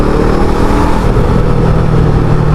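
A Brixton Crossfire 500XC twin-cylinder motorcycle engine pulled up to around 5000 RPM, a loud, steady, close mechanical drone held for a few seconds with no voices.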